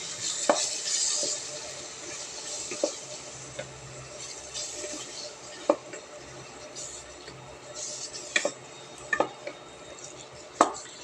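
Mung bean stew being stirred in a pot: scattered soft scrapes and occasional sharp clinks of a utensil against the pot, under background noise.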